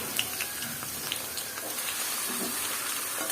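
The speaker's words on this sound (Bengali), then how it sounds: "তেলটা আমার গরম হয়ে গেছে আর আমি এখন রোস্টের পিসগুলো দিয়ে দিব" Pieces of chicken roast frying in hot oil, a steady broad sizzle with scattered pops and crackles, close and continuous throughout.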